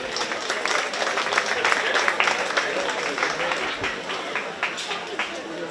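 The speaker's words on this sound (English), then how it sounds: "Give them a huge round of applause as they head back to the barn." Audience applause in a livestock show arena at a county fair 4-H/FFA swine show, a steady wash of clapping with some crowd noise and a busy background, lasting several seconds.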